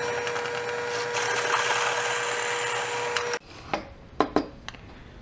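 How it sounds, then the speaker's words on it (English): A steady whirring drill grinds into wood for a few seconds until reaching a depth stop, then stops, followed by a few light knocks and taps. "I'm just going to drill until I hit my depth stop"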